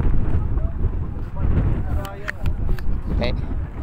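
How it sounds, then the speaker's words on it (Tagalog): Strong wind roars and buffets the microphone at the Chocolate Hills, a loud, continuous low rumble with gusty surges, while people talk over it. "Malakas ang hangin."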